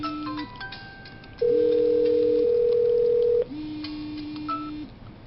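On an office phone system, an incoming call from extension 200 comes in over a VPN. Low electronic call tones are followed by a louder steady tone lasting about two seconds, then more tones, all close and clear without speech.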